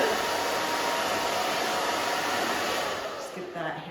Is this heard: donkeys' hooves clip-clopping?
no